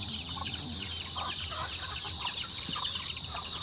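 Chickens and young chicks cluck and peep steadily at a farm beside a fishpond, a dense continuous flock chatter close by with no talking.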